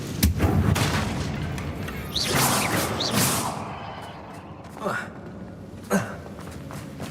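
Confringo explosion spells cast in Hogwarts Legacy, a series of booming blasts with swooshing bursts, the loudest early and later ones shorter and sharper, with speech mixed in.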